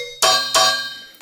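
Two sharp, ringing glassy hits from an empty beer bottle, each a bright tonal transient decaying over a few tenths of a second, then a faint third tap at the end.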